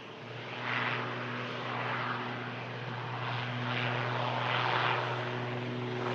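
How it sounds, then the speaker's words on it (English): An Irini ATR turboprop airliner departs, bound for Guernsey, with a steady propeller drone and low engine hum holding throughout, swelling slightly in waves at moderate distance. "the Irini ATR departing, one of the nicest looking ATRs in my opinion"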